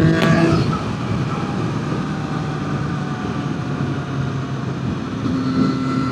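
Triumph 765RS motorcycle at full throttle from 60 in top gear on a dual carriageway, a steady loud engine drone under heavy wind rush, with no speech over it.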